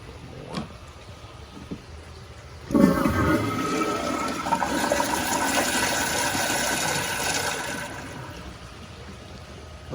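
A Kohler Kingston wall-mounted toilet flushes with a sudden loud rush of water that holds steady for several seconds before easing into a softer refill trickle, following a few faint clicks.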